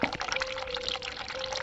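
A tap runs in the video game The Cat Lady, giving a continuous close splashing pour of water with small drips and a faint steady tone underneath.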